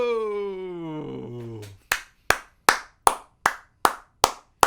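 A drawn-out vocal tone with a falling pitch leads into about eight sharp, evenly spaced hand claps, each one crisp and close, ringing briefly before the next.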